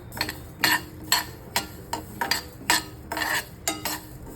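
Fenugreek seeds dry-roasting in a pan on low heat, stirred in a regular rhythm of about ten sharp scraping, rattling strokes.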